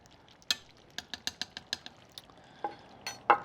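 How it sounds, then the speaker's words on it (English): Spoon scraping and stirring through a pot of meaty Texas red chili while a bowl is scooped, a run of short clinking taps and wet scrapes close by, with two louder knocks near the end; no talk. "I'm gonna scoop out a bowl here"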